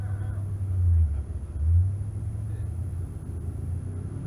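A 1968 Camaro drag car idles and revs at the start line of a drag strip, a deep throbbing engine rumble that surges twice and then settles into a steady low drone.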